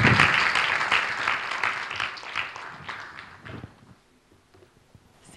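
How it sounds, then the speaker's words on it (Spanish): An audience at a media talk applauds the director of El Mercurio newspaper, with a dense round of clapping that fades out over several seconds, leaving near silence with a few faint taps. "Otro aplauso para el director del Mercurio."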